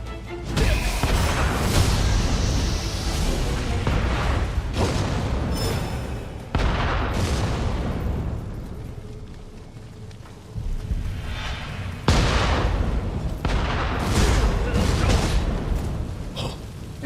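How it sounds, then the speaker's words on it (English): Cannons boom again and again in the Nioh 3 video game battle, heavy blasts with rumbling tails layered over continuous loud combat noise that barely lets up. "Cannons! Cannons everywhere!"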